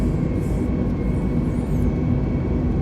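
Sustained broadband jet roar of an Iberia Airbus A320neo climbing out after takeoff in Microsoft Flight Simulator, a steady loud engine rumble from the cabin or cockpit with no talk.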